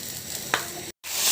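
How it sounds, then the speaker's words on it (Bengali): Mashed boiled potatoes sautéed with spice paste in a pan give a steady close sizzle with a brief stirring scrape midway, then a moment of silence before the frying hiss resumes. "আমি এখন এটাও সুন্দর করে কষিয়ে নেব।"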